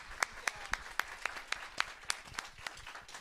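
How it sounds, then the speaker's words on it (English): Audience applause for a university communications week panel, a thin scattering of individual claps at a steady rhythm, fairly faint and with no talk over it. "y'all, please clap it up for this wonderful panel."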